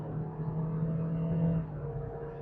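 A car engine of about 1350 cc pulls hard through a 0 to 100 acceleration run, a steady rising drone heard from inside the cabin, loud and continuous.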